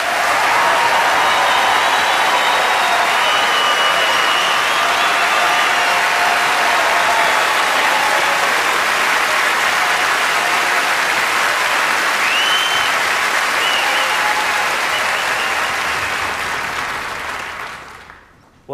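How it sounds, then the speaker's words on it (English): An audience at a school choir competition applauds steadily and loudly for a long stretch, a dense even wash of clapping that fades away at the end. "let's give them a big round of applause"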